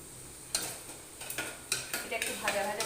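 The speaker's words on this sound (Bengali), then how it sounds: "একটা শুকনো লঙ্কা দিয়ে দিলাম" Dry red chilli and panch phoron fry in hot oil while a spoon clinks and scrapes repeatedly against the pan, a close series of sharp metallic stirs over a faint sizzle.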